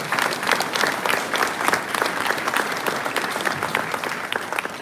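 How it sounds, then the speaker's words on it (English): Audience applause at a county Republican Party convention in South Carolina, a full, steady burst of many hands clapping, close and lively, holding for several seconds with no talk over it. "But give them a round of applause."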